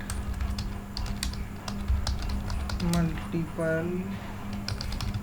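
Typing on a computer keyboard while writing delete code for an Ajax file in a CodeIgniter project, a steady run of light clicks spread through the clip under a man's speech.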